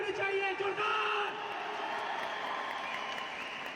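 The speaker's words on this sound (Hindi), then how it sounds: "तो एक बार जोरदार वाली तालियां होनी चाहिए, जोरदार" A stadium crowd at a diamond celebration event applauds, a steady wash of clapping and cheering that holds at moderate level while a speaker talks over it.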